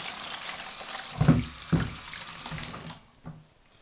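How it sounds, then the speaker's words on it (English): Hot water from a Kelly kettle is poured into a bucket outdoors for an off-grid winter shower, a few short splashing gushes of liquid over a steady background hiss, then trailing off into near quiet. "Now it's a question of getting the Kelly kettle water into the bucket as well"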